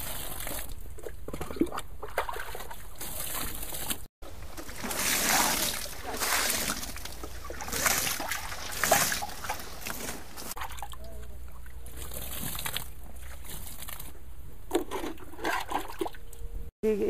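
Water mixed with cow dung is flung from a bucket onto a Nadep compost heap, making a series of loud splashing, sloshing bursts up close, with quieter pauses between throws.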